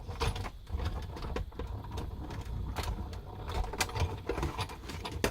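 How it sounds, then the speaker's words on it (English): A Big Shot die-cutting and embossing machine is cranked by hand while a card panel passes through an embossing folder. It gives a continuous close grinding, rolling rumble with small clicks, and no talk over it. "So I'm just off to the side using the big shot rather than bringing it in."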